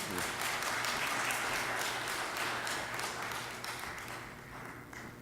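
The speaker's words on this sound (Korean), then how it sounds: "여러분 박수로 한번 환영해 주시기 바랍니다" Church congregation applauding to welcome a member called up to give a testimony, a dense steady wash of clapping that fills the room and slowly thins toward the end, with no voice over it.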